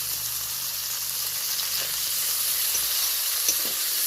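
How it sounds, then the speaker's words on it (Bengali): Chopped onion, slit green chilies and diced tomato fry in hot oil in a pan, a steady close hiss of sizzling with faint stirring scrapes and no talking. "টমেটো কুচি আর চেরা কাঁচা লঙ্কা বেশ ভালো করে 2-3 মিনিট নাড়াচাড়া করে নেব"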